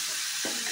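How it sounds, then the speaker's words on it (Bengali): Green tomatoes, onion and bean peels fry in a pan, a short burst of bright sizzling hiss with a brief stirring scrape partway through. "ভালোভাবে ভেজে দিচ্ছি"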